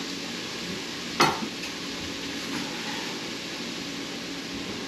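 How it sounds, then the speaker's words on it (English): Food sautéing in a pan for gluten-free chicken parmesan, a steady close sizzle with one sharp clink of a utensil against the pan near the start. "So I'm gonna let that saute for a couple minutes."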